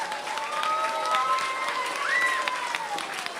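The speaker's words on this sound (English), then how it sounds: "we want to really give a big round of applause for him." Applause from a school event audience, a steady wash of clapping that holds at an even, moderate level for a few seconds with a faint tonal hum underneath.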